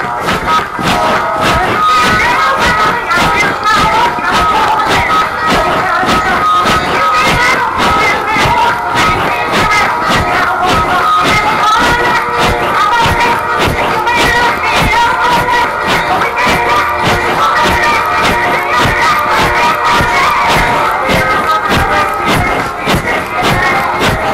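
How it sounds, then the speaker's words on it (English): A steady, upbeat song plays continuously and loud, with a driving, even beat and crowd-like layered sound throughout. "We're listening to a song that's giving us that rate of 100 beats per minute."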